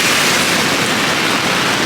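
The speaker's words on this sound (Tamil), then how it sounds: "சரியான மழை வந்து இப்போ 4 நாட்களாக" Heavy rain with strong wind during the 2022 Queensland flood, a loud, dense and steady wash of falling water that fills the whole clip without any break.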